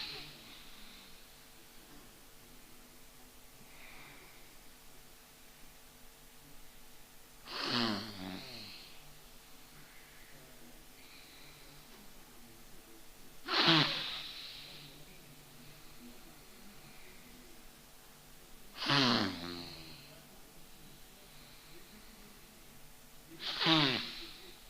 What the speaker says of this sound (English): So we just breathe in with one nose up, and then we release it with the other one.